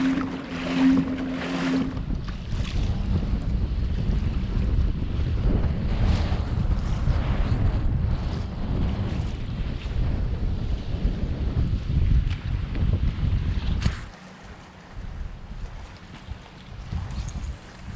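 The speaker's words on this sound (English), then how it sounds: "Now we're gonna hit the wind in 2 seconds." Strong wind buffets the microphone while kayak fishing from a Pelican Catch 130 HyDryve pedal kayak in nasty weather, a loud continuous roar with gusts and water splashing, easing off briefly near the end.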